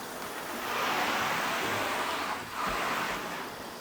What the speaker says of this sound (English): just give it a little rinse